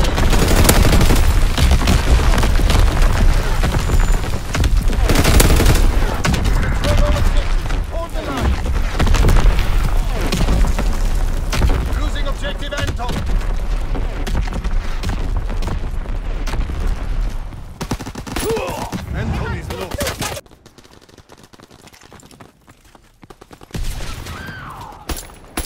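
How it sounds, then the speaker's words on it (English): An artillery barrage in Call of Duty: WWII sounds as heavy, continuous booms and gunfire that pound loudly for about twenty seconds, then drop away to quiet before a last few blasts, with game radio voices mixed in. "Firing battery one. Target position confirmed."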